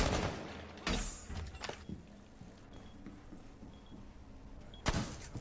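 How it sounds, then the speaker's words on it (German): Gunfire in a Rainbow Six Siege match, with a burst of loud sharp shots at the start, another near one second and a final crack near five seconds over quieter game ambience, no talk. "Hier kommen aber schon die ersten Schüsse rein."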